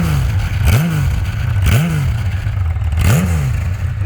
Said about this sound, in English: The stock exhaust sounds so good.